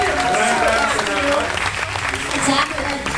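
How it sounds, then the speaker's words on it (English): An audience at an improv festival show claps in a dense burst of applause. A voice talks over the clapping, and the noise slowly thins out over a few seconds. "Can you give yourselves a round of applause for being here?"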